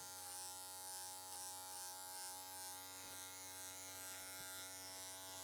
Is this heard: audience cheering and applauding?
no